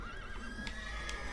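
Horse whinny in The Witcher 3: Wild Hunt, a single drawn-out neigh with no one talking over it.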